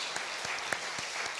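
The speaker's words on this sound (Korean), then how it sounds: "박수 한번 합시다" A congregation at an early-morning church service applauds briefly, with a faint, thin patter of clapping from a small group.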